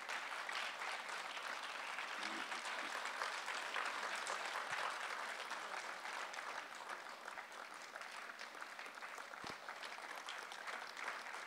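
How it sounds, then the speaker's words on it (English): Long, steady round of audience applause at an award ceremony as a plaque is handed to winners, dense clapping that holds evenly and eases slightly toward the end. "Let's give them a huge round of applause."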